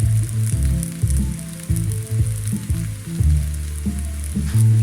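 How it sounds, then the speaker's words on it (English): Biryani ingredients frying in a pan, a loud, continuous sizzle with bubbling crackle that stays close and even throughout. "You let it fry for some minutes"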